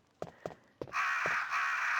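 Crows cawing in Resident Evil Director's Cut: three sharp, separate caws in quick succession, then a denser, louder flurry of overlapping caws and wing-like noise filling the rest, with no talking.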